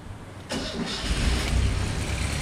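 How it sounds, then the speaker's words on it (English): A 1975 Fiat 127's small engine cranks and catches abruptly, then settles into a loud, steady, slightly uneven idle close by. "Would you like to hear a startup sound?"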